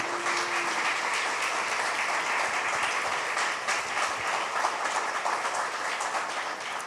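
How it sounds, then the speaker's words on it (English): Applause from an audience at a panel conversation event, a dense, steady clapping that fills the whole stretch without talk over it. "Let's do a round of applause."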